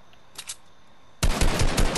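Rapid automatic gunfire in the Fortnite video game, a couple of faint shots followed by a loud, dense burst of fire for the last second.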